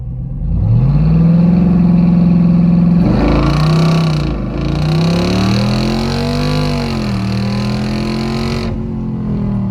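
A custom-tuned Jeep Wrangler 392 accelerates hard up a slight incline, its loud V8 engine rising in pitch through several gear changes with brief shift dips, close and steady with no talk.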